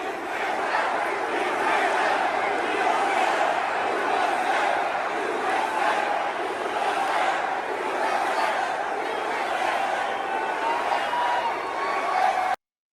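Large crowd at a Donald Trump rally, a continuous roar of cheering and chatter from many people at a distance, steady and dense throughout with no single voice standing out.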